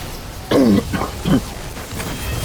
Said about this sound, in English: Sorry for the annoying cough.